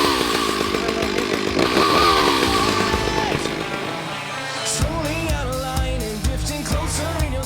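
A loud chainsaw buzzes close up, its pitch rising and dropping as it bites into wood, the engine sputtering and revving in the second half.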